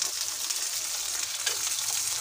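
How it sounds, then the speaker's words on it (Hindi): Oil sizzling on a hot tawa griddle, heard as a steady, fairly quiet hiss that holds evenly throughout with no voices. "इस तरह से हम इसमें ऑयल डालेंगे"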